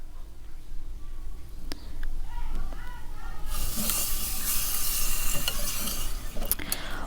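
Split black lentils (mash dal) sizzle in a hot pan over a medium flame while a utensil scrapes and stirs; the frying hiss grows much louder halfway through.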